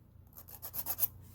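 A nail file rasps across short gel-overlay nails in a few quick, soft strokes that build slightly louder toward the end, close up with no voices.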